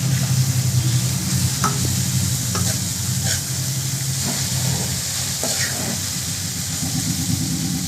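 A spiced curry mixture, with salt, chilli powder and turmeric, is stirred in a pan over a steady sizzle, with repeated scraping strokes and a low rumbling hum running underneath.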